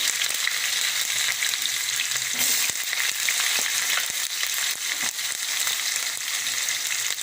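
Garlic and chopped onion sauté in hot oil for a tomato thokku, giving a dense, loud, continuous sizzle broken by frequent spoon scrapes and clicks; no voices.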